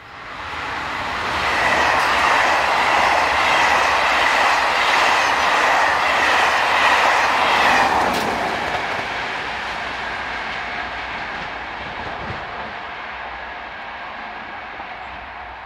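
An SNCF BB15000 electric locomotive hauling a train rumbles past loudly at Motteville, France, with a steady roar and faint clicking of wheels, then fades gradually into a softer lingering hum.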